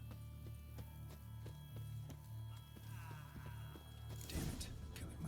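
Horse hooves beat in The Witcher 3: Wild Hunt, a quick, regular clip-clop of a galloping horse over a low droning game ambience. A sharp burst of noise cuts in near the end.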